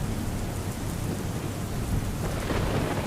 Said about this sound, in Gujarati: પાણીનો ધસમસતો પ્રવાહ